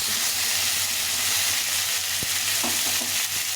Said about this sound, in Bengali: বাকি সবজিগুলো দিয়ে দিয়েছি এগুলো ভালো করে ভেজে নিতে হবে